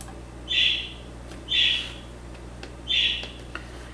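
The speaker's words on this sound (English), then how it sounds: "If you hear parakeets, my mom just got parakeets for Mother's Day" Pet parakeets kept indoors give three short, clear chirps spaced about a second apart, faint and in the background against a quiet room.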